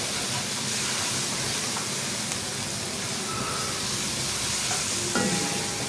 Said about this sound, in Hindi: ग्रीन चिली, अच्छा इसे थोड़ा सा चलाकर